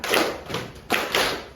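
Students in a classroom clap in unison, a short run of crisp, evenly spaced group claps heard up close with no voices.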